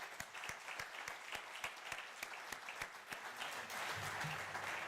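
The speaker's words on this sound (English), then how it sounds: "One round of applause." An audience at a Johan Cruyff Institute event breaks into a round of applause: distinct, fairly sparse claps at close range that thicken into a fuller, steadier clapping toward the end.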